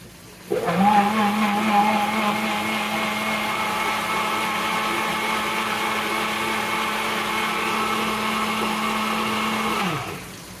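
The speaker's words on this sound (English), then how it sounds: "I'm gonna blend the chili with some of that chicken stock" A blender blending chili with chicken stock whirs steadily at high speed for about ten seconds, starting abruptly and winding down at the end, with no talking.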